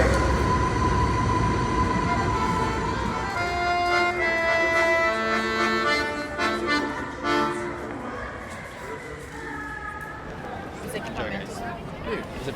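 A train moving along rails with broad rumble and tonal wheel and car noise throughout, fairly loud and close, while people talk nearby.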